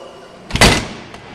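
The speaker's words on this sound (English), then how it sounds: "So I'm going to close the door." A door swings shut with a single firm thud, one loud close-range impact followed by a brief faint knock, in an otherwise quiet room.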